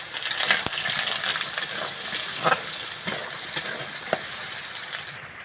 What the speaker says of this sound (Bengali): তেলটা কিন্তু গরম হয়ে গেছে সবিনগুলো কিন্তু আগের থেকে আমি ধুয়ে রেখেছিলাম এবার এগুলো আমি ভেজে নেব